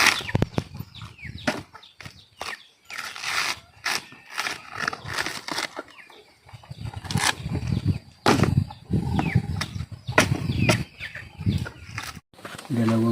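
Three mother hens cluck and scratch around their chicks on a farmyard in Lagonoy, with close clucks, flapping bursts and rustling, while a person talks at intervals.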